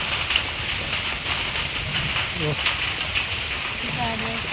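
Steady rain falls outdoors during a walk through jamun (Java plum) trees, a dense continuous hiss close around the microphone, with faint voices talking underneath.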